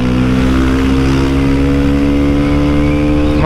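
Honda Start 160 motorcycle fitted with a blue Dore exhaust, revving loud and close in one long sustained pull whose pitch climbs steadily toward the end.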